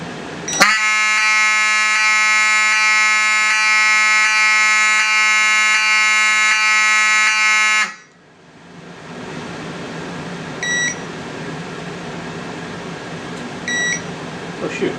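A fire alarm system in drill mode blares a loud, steady electronic tone for about seven seconds, then cuts off abruptly, leaving quiet room noise with a couple of faint, brief beeps.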